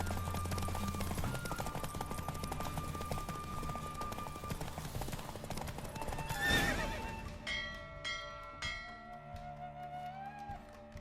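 In The Witcher 3: Wild Hunt, rapid hoofbeats of a racing horse pound steadily through the first half with game music, then the horse whinnies loudly and the galloping fades into a calmer tune.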